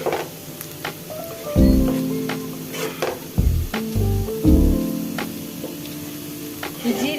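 Rice and lentils frying and being stirred in a pot for khichuri, a steady close sizzle broken by bursts of scraping as the spoon moves the grains, with no talking.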